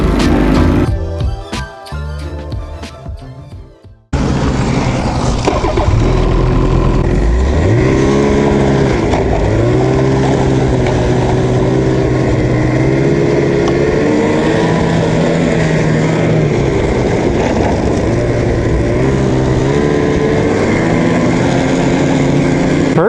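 A snowmobile engine drones steadily up close on the first ride of the season, rising and falling in pitch as it revs, after a few seconds of rustling handling noise at the start.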